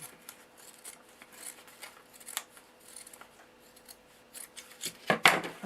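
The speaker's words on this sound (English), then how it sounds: "then that way you can turn it and just cut it like this" Scissors snip through fabric while cutting out a pocket potholder, a soft steady rasp of blades that swells into a louder, closer series of cuts at the end.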